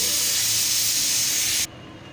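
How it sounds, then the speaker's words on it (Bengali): Rice for mutton biryani comes to a boil in a pot, giving a loud, steady steamy hiss that fills the first second and a half before cutting off abruptly to near quiet. "দেখুন ফুটে এসেছে ভাত"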